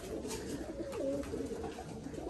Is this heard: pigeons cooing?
yes